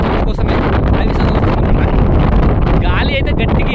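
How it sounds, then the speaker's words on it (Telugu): Strong wind buffets the microphone on a forested hilltop, a steady loud roar with gusty rustling, while a person talks over it throughout. "గాలి అయితే గట్టిగా వేస్తుంది."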